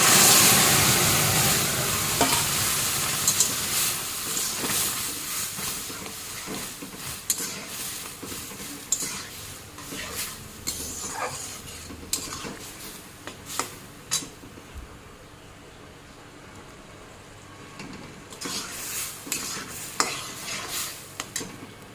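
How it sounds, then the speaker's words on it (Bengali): Boiled Malabar spinach leaves tossed into a hot pan and stirred, giving a steady sizzle broken by repeated utensil scrapes and clinks against the pan. "এখন দিয়ে দিই সিদ্ধ করা পুঁই শাকের পাতাটা"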